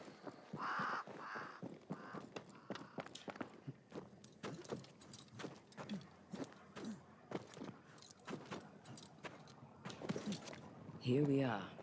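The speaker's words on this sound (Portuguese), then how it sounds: "Espantamos os corvos." Crows scared off in Banishers: Ghosts of New Eden: a flurry of harsh caws and flapping close by, with footsteps and other movement sounds scattered through, under occasional talking.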